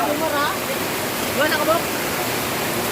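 Steady loud rush of floodwater on a farm after heavy rain fills the whole clip, a broad churning roar like a swollen current, with faint voices showing through.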